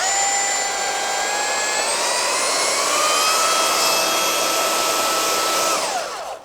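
A Craftsman V20 brushless belt sander running continuously, a loud whining motor with a high tonal whir and steady rushing hiss, its pitch rising slightly midway before spinning down at the end; close, with no talking.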